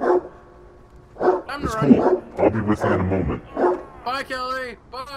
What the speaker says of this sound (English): I am sorry about the dogs barking.